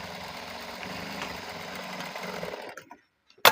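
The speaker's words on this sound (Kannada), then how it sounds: "ಇವಾಗ ಇದಕ್ಕೆ ಇಲ್ಲಿ ಸ್ಟಿಚ್ ಹಾಕ್ಕೊಳ್ಳೋಣ" Sewing machine stitching a churidar top sleeve, a steady continuous mechanical whir for nearly three seconds that cuts off into silence, followed by a short sharp click at the end.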